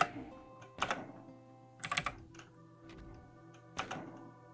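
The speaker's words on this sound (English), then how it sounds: "I noticed that this keyboard is pretty loud" A loud computer keyboard with a few separate, heavy clacking bursts of keystrokes spaced about a second apart, close to the microphone, over a faint steady hum.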